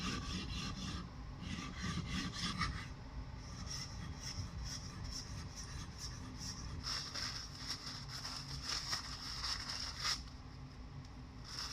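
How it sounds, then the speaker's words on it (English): Steel blade back rubbed back and forth on a DMT coarse diamond sharpening plate, a steady close gritty rasping scrape that continues without pause. "This is a DMT coarse. First thing we'll do is softly flatten the back"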